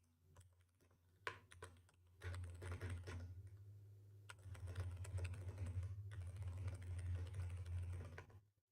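Rapid clattering keystrokes on a computer keyboard, close and fairly quiet, come in sparse taps at first, then settle into dense continuous typing bursts with brief pauses, with no voices.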